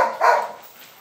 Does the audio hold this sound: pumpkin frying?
no